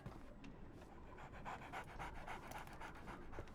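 A small dog pants quickly and rhythmically in the video game Sherlock Holmes The Awakened, soft steady breaths repeating without pause.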